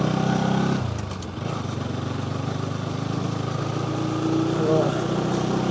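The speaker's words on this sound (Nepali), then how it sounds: "मेरो बाइकको क्लच प्लेट गएको कि चेन ठुलो गएको कि कडाक कडाक गरे पड्किन्छ" A motorcycle with a suspected worn clutch plate or slack chain idles close by in a steady low drone that runs the whole time, with voices faintly in the background.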